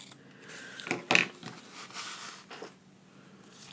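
Scissors cutting ribbon while recycling a wedding invitation into a card, heard up close as a couple of quick snips and a short rustle, quiet overall.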